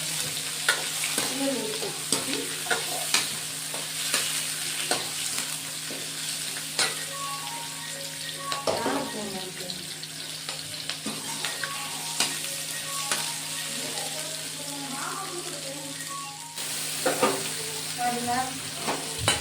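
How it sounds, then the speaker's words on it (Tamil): Garlic sautéing in a pan for rock fish curry, a steady sizzle with occasional stirring scrapes and clinks, close and continuous for the whole stretch, with no voices. "நல்லா வதக்கி தான் வதக்கி எடுத்துக்கோங்க."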